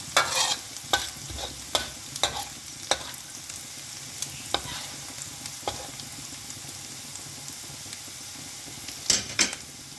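Mi goreng ingredients being stir-fried in a pan, with irregular scrapes and clinks of a utensil against the metal over a faint, low sizzle; no one talks.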